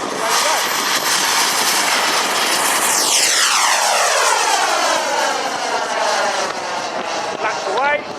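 A Viperjet model jet aircraft at full power on takeoff, a loud roaring jet engine whose pitch sweeps downward as it passes close by and recedes, with someone talking over it throughout.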